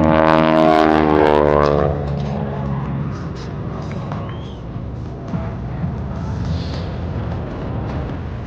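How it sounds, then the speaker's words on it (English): A red Boeing Stearman biplane roars during an airshow aerobatic routine, its radial engine loud and close at first, then fading to a distant drone amid open-air wind noise. "Vicky considers herself lucky to be a steward of this timeless piece of history, her beautiful red Stearman."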